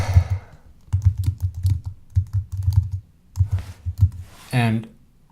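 Close clicks from typing on a computer keyboard come in uneven bursts with brief pauses, and a voice is heard near the end.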